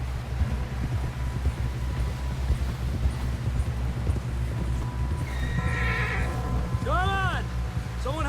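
Horse hooves clip-clop steadily in the Red Dead Redemption 2 video game over a constant low rumble, with voices talking, before a horse gives a clear whinny near the end.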